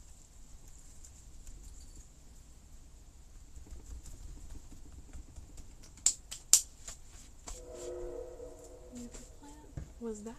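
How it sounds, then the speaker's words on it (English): A distant horn sounding at night, like a train horn, with a low steady tone of a few seconds rising faintly late in the clip over quiet background noise and a few sharp clicks. "Was that a train? No. A big stupid horn."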